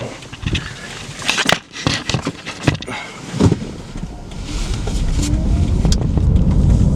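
A car engine rumbles steadily as the vehicle drives along, with clattery handling noises early on giving way to a continuous low road drone.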